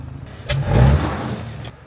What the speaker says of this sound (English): But it moves around the yard pretty good in first gear.